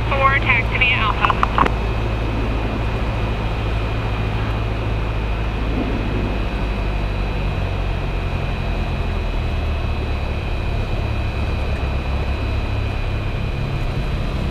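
A Cessna Citation X jet taxiing on the ground toward its runway, a steady loud engine roar and hum throughout, heard from close by with brief clicks at the start.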